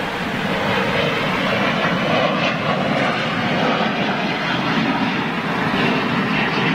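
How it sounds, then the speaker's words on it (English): Aircraft on an early departure, a loud, continuous jet engine roar holding steady and broad throughout, heard alone. "Oh wow, look at that early departure."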